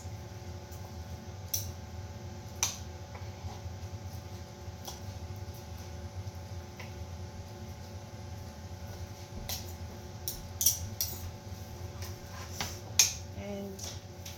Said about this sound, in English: So I'm going to make nice, thin, not too thick slices.